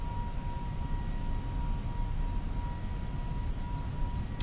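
A321neo jet engines in Microsoft Flight Simulator give a steady, even cabin drone with a faint high whine, unbroken throughout.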